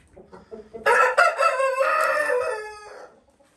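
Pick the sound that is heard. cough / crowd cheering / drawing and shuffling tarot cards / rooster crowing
rooster crowing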